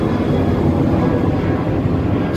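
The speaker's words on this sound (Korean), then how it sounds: "여기가 공항 근처 해안도로라서 연신 비행기가 뜨고 있네요." Airplane taking off near the airport on a Jeju coastal road, a loud continuous broadband engine roar that holds steady throughout with no voices.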